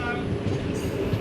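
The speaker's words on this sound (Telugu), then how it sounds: "మెల్లగా మన ట్రైన్ అయితే శ్రీరామ్ నగర్ స్టేషన్కి ఎంటర్ అవుతుంది." Aboard the Tungabhadra Express as it slows into Sriram Nagar station on the Secunderabad–Kurnool run, the carriages give a low, steady rumble for a brief moment.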